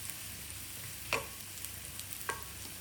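Onions and chili flakes fry gently in a pan over lowered flame, a soft steady sizzle broken by a few scraping stirs from a utensil.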